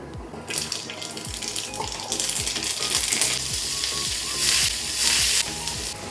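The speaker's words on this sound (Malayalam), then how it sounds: "ഇനി നമുക്ക് എണ്ണ ഒഴിച്ചിട്ട് കടുകിട്ട് കൊടുക്കാം." Mustard seeds sizzle and pop in hot oil in a pan while cooking egg curry, a steady hiss with scattered sharp crackles building louder over several seconds, close up with no talking.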